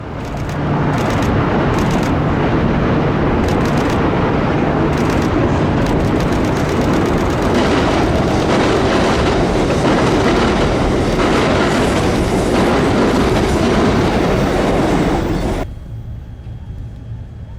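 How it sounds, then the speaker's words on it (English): An Amtrak Capital Corridor passenger train crosses a bridge, roaring loudly and steadily with rhythmic clickety-clack wheel noise close by. The rumble drops off sharply near the end as the train passes. "This is the video I took in 2022 of the Capital Corridor crossing the bridge from this location."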